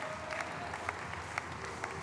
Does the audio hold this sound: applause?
yes